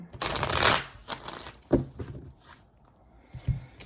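Playing cards are shuffled in a quick riffle, a loud burst of flapping clicks, followed by a few softer taps and handling noises in a quiet room.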